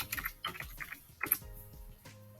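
Keys tapped on a computer keyboard while searching for images in Cricut design software, a few quiet clusters of clicks with pauses between them, close and faint.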